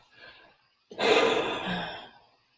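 A single deep breath, a quick inhale followed by a long audible exhale, near and clear, with faint soft breathing just before and no talk.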